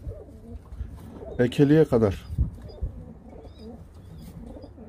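Breeding tumbler pigeons coo in a soft, throaty burst near the middle, with someone talking quietly throughout.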